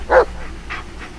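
A dog in the Blair Witch horror game gives one loud, close bark followed by a few softer whimpering yips in quick succession.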